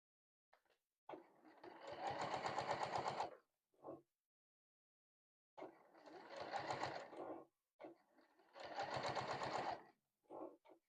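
Sewing machine stitching fabric for a fold-up advent calendar panel: three bursts of rapid mechanical needle chatter, each a couple of seconds long, separated by silent pauses and short clicks, close and clear.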